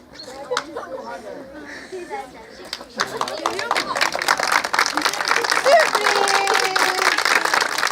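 An audience breaks into lively clapping at a surprise gathering, starting after some children's and adults' chatter and building into steady applause mixed with voices and cheers.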